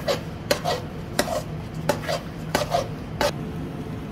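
Semolina halwa roasting in a pot with butter and oil, stirred by hand: a series of sharp spoon scrapes and knocks against the pot come about every half second to second over a faint steady background hiss.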